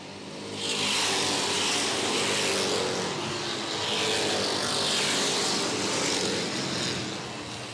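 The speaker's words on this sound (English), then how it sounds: "and Bucko Branham running side by side around the racetrack" Race cars on the Airborne Speedway track in Plattsburgh, New York roar in a continuous, swelling drone as they run side by side, loud and sustained for the whole stretch.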